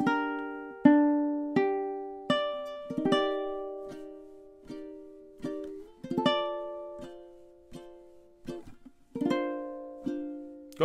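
Solo ukulele picks a stanza of the theme, each plucked chord and note ringing and decaying before the next, in an unhurried melodic rhythm, close and clear with no talking.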